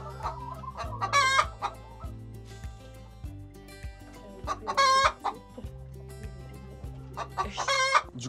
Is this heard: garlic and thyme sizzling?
no